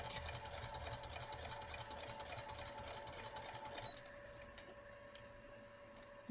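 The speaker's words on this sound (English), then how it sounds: "Okay, so I'm going to sew that, and you sew it all the way around." A sewing machine stitches all the way around a roughly 10-inch square fabric pocket. Its rapid, steady whir runs close and loud for about four seconds, then stops, leaving a quiet hum.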